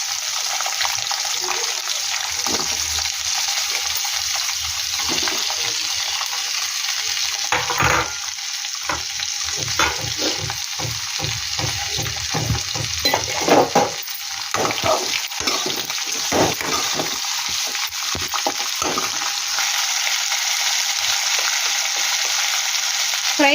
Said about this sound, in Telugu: పప్పు వేగింది ఇప్పుడు దొండకాయ వేస్తాం